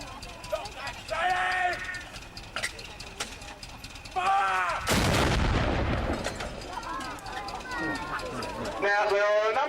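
Artillery gun fired at Dover Castle during a wartime gun drill, one loud broadband blast in the middle that rolls away, with shouted orders and talk before and after it.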